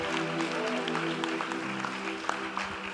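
A church congregation applauding steadily, a dense continuous patter of many hands over a sustained musical tone.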